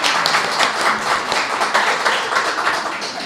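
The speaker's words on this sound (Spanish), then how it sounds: "te vamos a dar un aplauso, Irene, porque estamos contentos de que estés aquí" A church congregation applauds during a service, a continuous, fairly loud clatter of many hands clapping at once, dense and even throughout.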